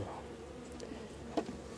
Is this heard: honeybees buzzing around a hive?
yes